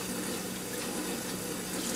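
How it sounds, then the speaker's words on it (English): Warm tap water runs steadily into a kitchen sink while grease is washed off, a constant close rushing hiss throughout with no talking. "Now we got some warm water and we're working on removing the grease."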